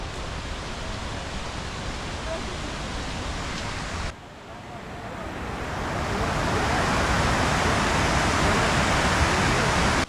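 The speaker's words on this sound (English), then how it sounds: "we've made it to the main part of the waterfall" Steady, dense roar of rushing water, broadband and continuous, growing louder partway through as if moving closer to a waterfall near Luang Prabang, northern Laos.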